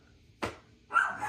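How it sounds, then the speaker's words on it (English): A pet dog barks twice indoors at home, two short, fairly close yelps about half a second apart, with no talking over them. "that's my dog yelling at me"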